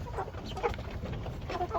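Several chickens cluck softly nearby in short, overlapping bursts, with a low rumble of background noise.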